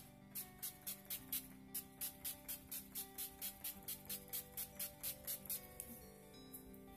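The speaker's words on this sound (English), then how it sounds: "So here's the setting spray." Makeup setting spray spritzes onto a face in about twenty quick, evenly spaced hissing bursts, close and crisp, over faint steady background music.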